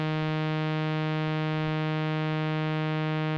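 A single sustained note from a Novation Peak synthesizer holds a rich, buzzy harmonic tone at a steady level, alone and unbroken, with a faint low throb beneath it.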